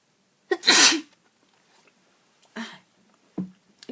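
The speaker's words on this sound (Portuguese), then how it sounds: "Desculpa que eu vou espirrar." One close, sharp sneeze bursts out in an otherwise quiet room, followed by two short, softer exhalations or sniffs.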